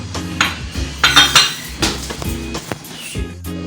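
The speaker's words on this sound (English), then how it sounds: "now I'll be adding the sugar and I'll be beating it again" Butter and sugar being beaten in a bowl, with loud, close, irregular clinks and knocks of a utensil against the bowl, clattering in quick bursts throughout, no voices.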